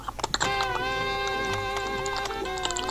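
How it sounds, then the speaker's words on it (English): Keyboard typing carried over a voice chat line, with quick clustered key clicks near the start and steady background hum and tones continuing underneath for the rest. "I can hear you type like."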